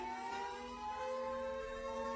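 A Siren Head siren plays as a steady, droning alarm with several layered sustained tones. It is faint but continuous for a couple of seconds, with no speech.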